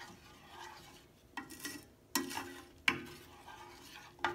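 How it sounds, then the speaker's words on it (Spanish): Butter stirred and whisked into a pot of red rice, giving soft scraping strokes with several sharp clinks of utensil against the pot, close and fairly quiet, no talking. "voy a agarrar mi pedacito de mantequilla y lo voy a batir hasta que se disuelva"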